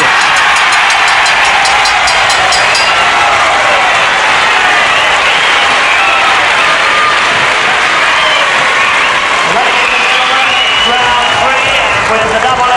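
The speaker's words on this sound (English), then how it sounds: "The crowd very happy about that." A British wrestling audience roars and applauds continuously, a loud, dense wall of cheering and clapping filling the hall throughout, with voices mixed in.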